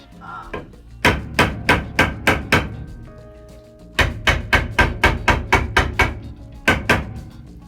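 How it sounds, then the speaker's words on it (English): A hammer tapping on a wood piece to mark where screws sit, during swivel seat installation in a short school bus conversion; close, sharp blows in quick runs of five to seven, separated by short pauses. "I'm actually hammering or kind of making an indentation to where the screw is inside the wood piece"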